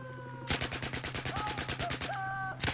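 Rapid automatic gunfire rings out in Battlefield 4 multiplayer gameplay: a fast, loud burst of about fifteen evenly spaced shots lasting around two seconds, followed by a final single shot.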